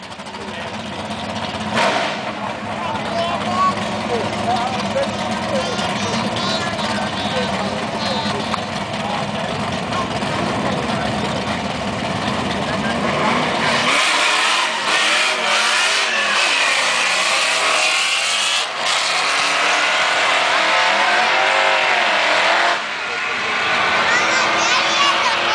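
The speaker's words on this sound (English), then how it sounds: "Camaro SS. Right there." A Chevrolet Camaro SS engine revs and accelerates on a race lane, its loud throaty roar building and swelling throughout, with a sharp shift partway through as the sound changes character, heard nearby.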